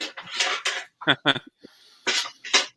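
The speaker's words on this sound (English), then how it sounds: "I'm going to go ahead and commit the rest of the onions to the beans" Onions tipped into a pot of beans, with several clattering scrapes and clinks of metal utensils against the cookware in short bursts separated by gaps, close and fairly loud.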